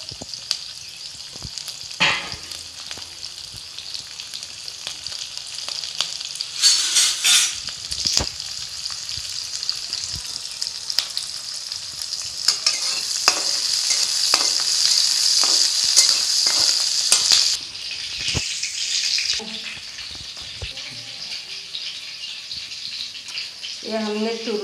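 Onion, garlic and chili fry in a hot pan for a spiced ridge gourd dish, giving a continuous close sizzle with occasional scraping stirs, loudest in the middle and easing off near the end.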